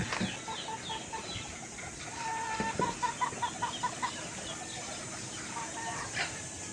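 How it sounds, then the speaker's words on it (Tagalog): Several chickens cluck and chatter in a steady, busy rhythm, close by, over constant outdoor farmyard background noise. "Napakaraming manok dito."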